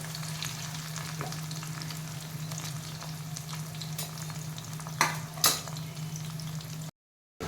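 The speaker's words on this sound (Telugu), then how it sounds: "కాకరకాయలన్నీ ఇట్లా వేయించుకున్నాను." Bitter gourd slices fry in oil in a pan with a continuous, even sizzle, broken by a few sharper scraping stirs near the end before a brief cut to silence.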